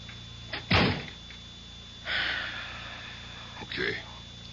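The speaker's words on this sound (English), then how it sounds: "shut the door" A door is pushed shut with a firm thump near the start, followed by faint shuffling sounds in a quiet interior of a radio drama.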